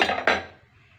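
A metal lid set onto a pot of boiling vegetables for rava kichadi gives a couple of quick clanks, then fades to a quiet simmer.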